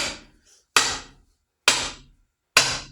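A vintage Collins axe head is tapped down onto a new-old-stock Collins wooden replacement handle, giving three sharp, close, evenly spaced knocks after a faint lighter tap, with silence between.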